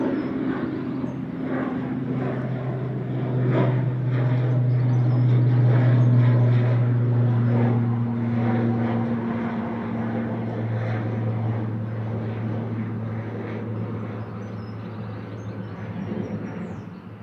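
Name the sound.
Loganair ATR 42 turboprop aircraft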